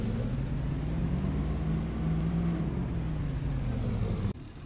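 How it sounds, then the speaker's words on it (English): A heavy truck engine in Farming Simulator 22 idles and revs steadily with a low, rumbling drone, then cuts off abruptly just before the end. "I really like the startup on this truck."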